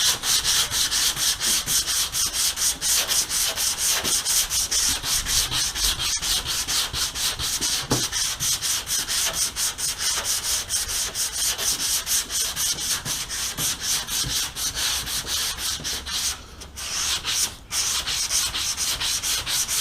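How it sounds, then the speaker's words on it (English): Steady, continuous block sanding on a car body panel during candy cobalt blue paint prep, a close, loud abrasive rasp with rhythmic back-and-forth strokes running throughout, with a brief pause near the end. "I'm gonna block sand this, make sure everything's perfect"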